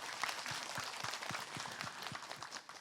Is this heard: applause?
yes